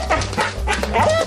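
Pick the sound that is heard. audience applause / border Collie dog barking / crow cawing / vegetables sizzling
border Collie dog barking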